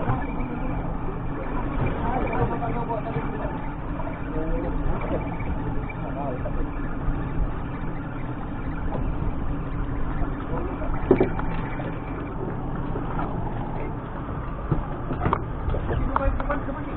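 A boat turning around on the water, its motor a steady, muffled drone running throughout, with people chatting over it.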